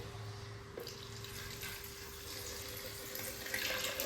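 Water pours steadily into a blender for making soy milk, a continuous close splashing rush with a faint hum underneath.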